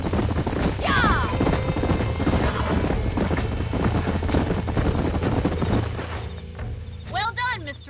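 Horses in Red Dead Redemption, a close run of hoofbeats clip-clopping along with a sharp whinny early on and another neigh near the end, voices talking over the action.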